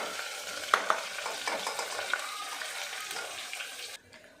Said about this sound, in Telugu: ఆనియన్ కూడా వేసుకొని కొంచెం కొత్తిమీర వేసుకొని ఇవి కూడా నూనెలో ఫ్రై చేసుకోవాలి.